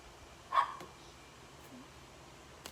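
A single pet dog gives one short bark partway through, with a fainter yip or two afterward against a quiet room.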